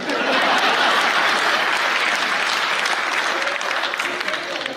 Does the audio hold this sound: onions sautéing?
no